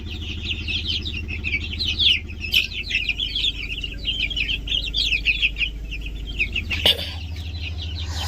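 Desi chickens on a farm cluck steadily, with overlapping chirps and scratchy calls above a constant low hum.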